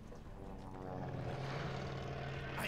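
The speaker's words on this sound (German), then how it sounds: "Flugzeug!" Propeller aircraft engine drone in the World War II shooter game Call of Duty: Vanguard, a steady loud hum that swells as the plane passes overhead, with no talk over it.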